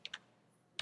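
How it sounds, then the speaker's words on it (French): Three quick, faint clicks of computer keyboard keys as a password is typed on a Windows machine, two close together and one after a short pause, in a quiet room. "je tape un mot de passe pour ouvrir la session après la suppression du domaine"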